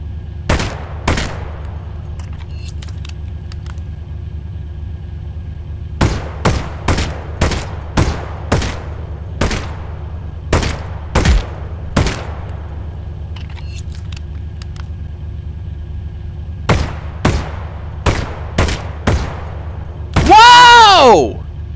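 Repeated gunshots from a long-range weapon in the VR game Half-Life: Alyx, sharp loud cracks fired singly and in quick bursts with gaps between, over a steady low hum, ending in a brief burst of ringing metallic noise.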